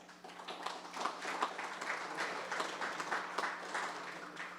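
An audience at an official ceremony for a northern tax office project applauds in a continuous, moderately soft wash of clapping, with a low electrical hum underneath and no one speaking over it.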